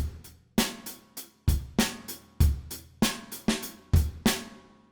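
A dry, punchy lo-fi drum loop plays alone without tape effect, with a steady pattern of kicks and snare hits and short decays between beats.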